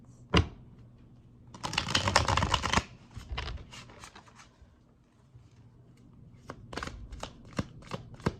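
Tarot cards are shuffled in a rapid riffle burst, followed by lighter scattered taps and flicks as they are squared and handled, close up and quiet otherwise.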